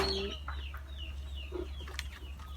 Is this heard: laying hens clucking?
yes